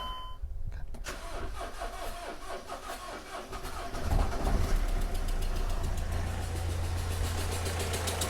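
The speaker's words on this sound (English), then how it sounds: "And it will probably quite happily start now" A Mercedes Vito diesel van with leaking injector seals cranks briefly and then catches. It settles into a loud, steady, slightly uneven idle close by.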